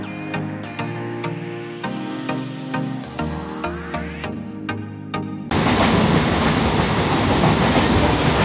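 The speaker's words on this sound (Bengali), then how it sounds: "উঠে গেছি ট্রেনে" Aboard a moving train, sharp rhythmic clicks ring over a tonal hum, then a loud, steady rushing roar takes over for the last few seconds.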